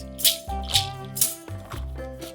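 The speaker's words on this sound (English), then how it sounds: "Flutter found some metal bottle tops, tied them on strings and then tied the strings to the end of a stick. It made a great clattering sound." Metal bottle tops tied on strings to the end of a stick clatter in quick rhythmic bursts over a steady musical backing, close and fairly loud.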